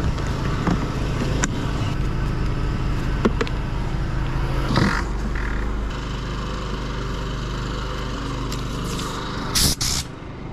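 A compressed-air blower blasts debris out of a car's interior during a mobile detailing maintenance wash: a loud, continuous rushing hiss with a few sharper bursts near the end, and no talking.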